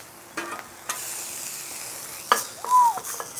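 Pork chops sizzling on a Blackstone griddle, a steady soft hiss of frying with a few sharp scraping and clanking spatula sounds on the metal surface.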